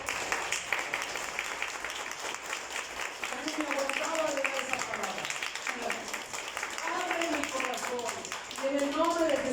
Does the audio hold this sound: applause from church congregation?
yes